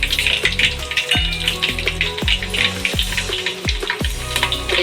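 Whole cumin and curry leaves fry in hot oil for dal with a loud, continuous crackling sizzle and scattered sharp pops, close up.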